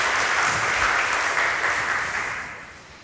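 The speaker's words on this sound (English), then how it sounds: "please give him a round of applause" A conference audience greets the next talk with a short burst of dense applause that fades gradually toward the end, with no talking over it.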